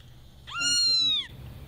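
A cat gives a single clear, drawn-out meow, close and fairly loud, over a low background hum.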